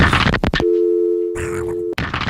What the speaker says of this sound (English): People really thought I was hanging the phone up, but I had a sound effect